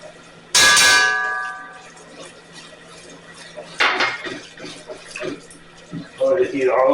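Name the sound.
whisking flour into beef bourguignon in a pot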